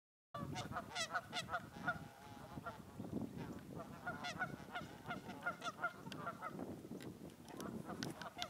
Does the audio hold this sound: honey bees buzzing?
no